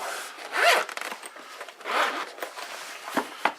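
A zipper on a heavy-duty nylon carry case for a Topdon T01 car jump starter is pulled open in a few rasping strokes, close and fairly loud, with short pauses between pulls.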